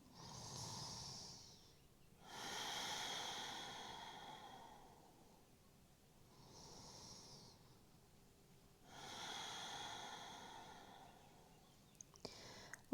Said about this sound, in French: Respire tranquillement.